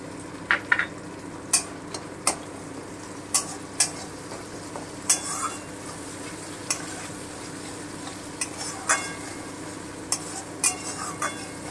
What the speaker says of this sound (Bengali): আমি হালকা একটু ভেজে নিচ্ছি। আমি আদা বাটাটা দিয়ে দিলাম।